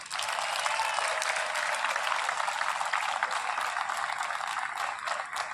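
Sustained audience applause at an all-India rescue competition, a dense, even wash of many hands clapping that holds steady for several seconds with no talk over it.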